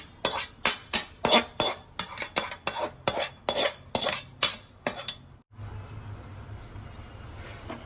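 A metal spoon scrapes and taps roasted semolina from a pan onto a plate for rava pongal, about a dozen rhythmic clinks and scrapes, then stopping to leave a low steady background hum.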